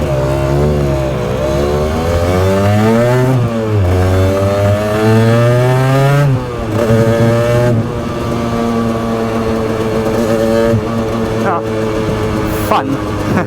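An Aprilia RS two-stroke motorcycle on a ride, its engine buzzing and revving loud and close with rising and falling pitch through repeated gear changes, carrying a steady rasp throughout.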